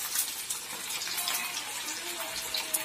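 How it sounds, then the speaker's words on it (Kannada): Rava-coated fish pieces deep fry in hot oil, giving off a steady, close, bubbling sizzle with no pauses. "ಫಿಶಸ್ನೆಲ್ಲ ಡೀಪ್ ಫ್ರೈ ಮಾಡ್ಕೊಳ್ಳಿಕ್ಕೆ ಅಂತ ನಾನಿಲ್ಲಿ ಆಯಿಲ್ನ ಬಿಸಿ ಮಾಡೋಕ್ಕಿಟ್ಟಿದ್ದೀನಿ"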